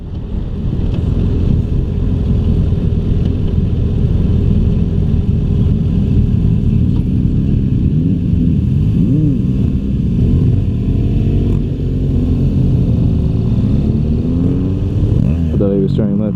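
A 2016 BMW F800GS motorcycle rides steadily along with a group, its engine droning continuously and loudly with wind rush throughout and a slight rise in revs near the end.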